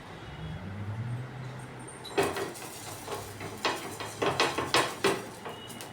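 A piece of onion is rubbed and scraped across a hot griddle before wheat dosa batter is poured, producing a series of sharp, close scraping knocks that start after a quiet stretch.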